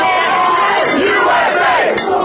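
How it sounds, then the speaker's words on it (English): A large crowd of protesters rallying on a square yells loudly and continuously over Governor Walker's budget, a dense close roar of many voices with scattered louder shouts. "Some marchers at the square say the yelling is therapeutic"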